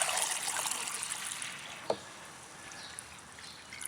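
Water trickles and pours steadily from the ball valve of a rain barrel made from a pickle barrel, running off the first flush. The sound is a soft, continuous flow, heard close but quiet, with one brief splash or drip.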